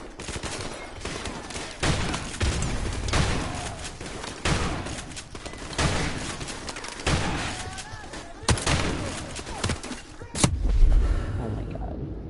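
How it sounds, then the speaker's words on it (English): Modern Warfare Remastered campaign gunfire while the player runs around shooting: repeated sharp rifle shots and short bursts spaced through the stretch, fairly close, over steady battle background noise. "I'm just kind of running around shooting."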